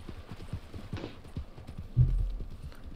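Horse hooves clip-clop steadily in the video game Red Dead Online, an even, moderately loud rhythm with a heavier thud partway through.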